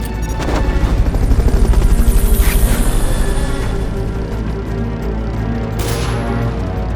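A Fulton recovery helicopter in Metal Gear Solid Peace Walker hovers with a continuous low rotor throb, overlaid by a crash and scattered booming game effects, with no voices.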